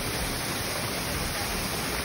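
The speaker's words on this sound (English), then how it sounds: "let's check out the waterfall" A waterfall at Rock City Gardens in Tennessee gives a steady, dense rushing roar that fills the whole clip without letup.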